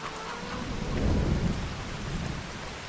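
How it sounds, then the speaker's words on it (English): Rain pours steadily in a Farming Simulator 25 game on PS5 while a low thunder rumble swells and rolls through the middle, loud and close, with no speech. "I hope it's not 4 o'clock by the time it stops raining"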